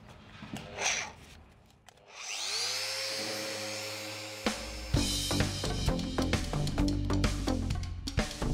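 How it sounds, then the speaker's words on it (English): A power sander working on the nose of a boat hull in a build kit project, starting with a steady whirring drone that rises and holds, then giving way to rougher, uneven scraping and rattling bursts, fairly loud and close. "I'm gonna sand up the nose of the boat a little bit,"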